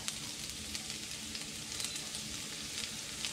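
Garlic stir-frying with pork liver in a hot pan, a steady dense sizzle with faint stirring scrapes throughout, close and continuous with no talking.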